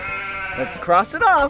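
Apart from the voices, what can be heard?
sheep bleating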